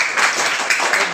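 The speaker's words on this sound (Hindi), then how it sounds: "बहुत अच्छे बच्चों, तालियां बजा दो जादव" Schoolchildren in an upper primary school classroom in Auraiya, Uttar Pradesh clap together, a busy, continuous patter of many small hands filling the room at close range.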